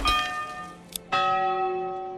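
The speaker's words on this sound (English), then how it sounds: "Let's change our church bell." A church bell in the medieval village-building game Manor Lords strikes twice, bright and ringing with a long humming decay, the second strike sustaining to the end.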